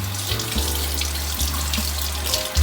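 A kitchen tap runs steadily into a sink, rinsing hot cheese curd under the flow in a close, continuous gush that lasts throughout with no talking.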